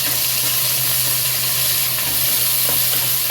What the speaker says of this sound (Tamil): இப்போ இதுவும் நல்லா வதங்கி வரட்டும்.